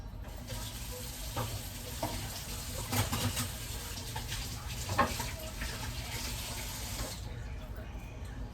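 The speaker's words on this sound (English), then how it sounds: "let's go ahead and put those pork chops in" Pork chops going into hot oil and frying, a steady broad hiss and sizzle with a few louder crackles, close by, before it cuts off near the end.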